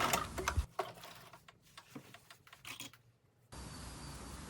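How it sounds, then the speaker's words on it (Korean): A sewing machine stitches along a drawn diagonal line on a tailored trench coat's back vent, quiet rapid ticking bursts separated by pauses, fairly faint and close, ending in a steady hum. "그려 놓은 대각선을 따라서 박음질을 합니다."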